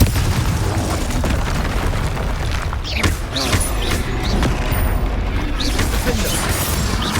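Confringo fire spell blasts in a Hogwarts Legacy wizard duel, dense booming explosions and crackling bursts layered over continuous battle noise and spell effects, loud and sustained throughout.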